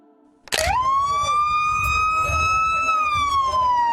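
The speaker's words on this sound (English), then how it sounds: "Sirens blare as ICE agents and Tennessee Highway Patrol officers guide a bus" Police sirens wail loudly as ICE and Tennessee Highway Patrol vehicles escort a bus carrying detainees, the sweeping tone starting abruptly and holding steady with rising pitch, over engine rumble.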